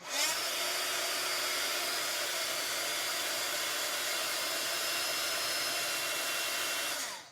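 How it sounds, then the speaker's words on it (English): A heat gun blows steadily on wet paper, giving a loud, continuous roaring whoosh of air that starts abruptly, holds at a constant level for about seven seconds, and then cuts off. "I will just use the heat gun on it and see if that will make much of a difference."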